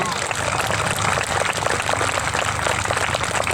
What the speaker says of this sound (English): So give them a round of applause, if you would, please.